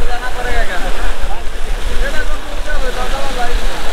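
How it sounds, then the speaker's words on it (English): A water fountain near the Petronas Towers in Kuala Lumpur splashes in a continuous, loud hiss of falling water, with a faint crowd murmur behind it. "Let's try and take a video of the water fountain."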